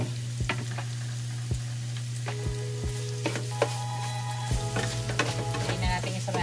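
Garlic fries in rendered pork fat in a pan, crackling and sizzling steadily up close while a utensil stirs and knocks against the pan several times; no one talks.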